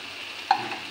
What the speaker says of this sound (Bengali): সব উপকরণগুলি মিশিয়ে নিই।